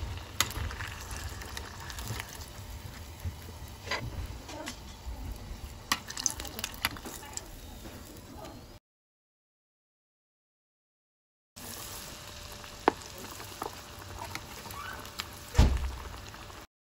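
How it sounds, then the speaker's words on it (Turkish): Chicken pieces fry in plenty of hot oil in a pan, a soft steady sizzle with scattered crackles and pops, close but quiet, broken by a short silent gap before the sizzling resumes. "Tavaya bolca sıvı yağ koydum ve ısıttım. Şimdi tavuklarımızı kızartma işlemine geçiyoruz."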